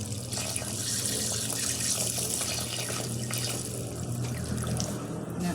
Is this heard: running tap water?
yes